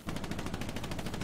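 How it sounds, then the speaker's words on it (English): Rapid gunfire from the World War II shooter game Hell Let Loose, a dense, continuous rattle of repeated shots at fairly even spacing over about a second, with no clear single isolated rifle crack. "First sniper shot at me"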